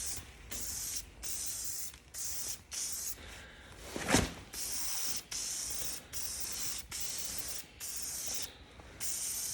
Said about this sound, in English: Oh well, let's give it a spray.